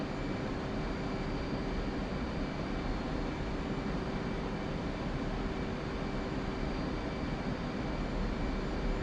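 A steady, dense roar of a jet aircraft engine cruising in a flight simulator game, constant and unbroken, with a faint tonal whine running through it.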